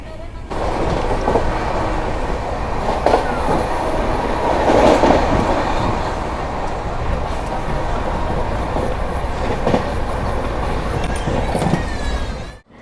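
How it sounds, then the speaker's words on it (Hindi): The Odisha Sampark Kranti Express rolls into Kanpur Central after a long non-stop run, a loud, continuous rumble of rail wheels and carriages with faint clatter and occasional squeal, heard steadily throughout. "पहुँच चुकी है अपनी ओडिशा संपर्क क्रांति एक्सप्रेस अपने पहले स्टॉप उत्तर प्रदेश में"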